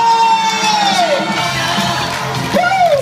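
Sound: audience applause and cheering at children's festival

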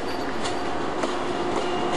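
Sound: Italian passenger train at station

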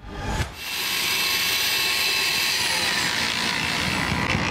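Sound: construction mixer and concrete mixer running at a park renovation

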